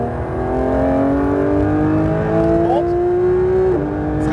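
Car at full throttle on a racetrack, engine droning loud and close with a steadily rising pitch as it pulls through a gear, a brief shift-like dip near the end, heard from inside the cabin.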